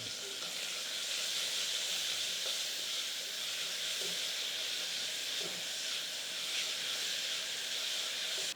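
Onions fry in a pan as a bottle gourd kootu is cooked, giving a steady, even hiss and sizzle with no clear breaks. The sound is fairly soft and continuous, and no one speaks.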